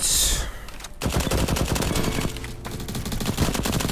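Automatic gunfire rattles in the Roblox shooter Bad Business, loud rapid bursts with two brief pauses, close and dense over a busy game soundscape.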